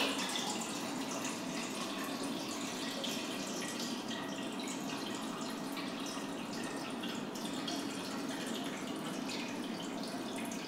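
Steady pouring of film developer into a film developing tank, a continuous, even splashing wash for about ten seconds, close by and uninterrupted, with no voices.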